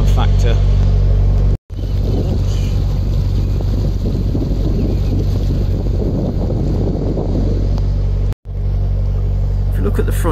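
A steady low narrowboat engine drone at about 2000 RPM runs throughout a sea crossing of the Wash, with wind buffeting the microphone and water wash beneath; two brief dropouts break the otherwise constant rumble.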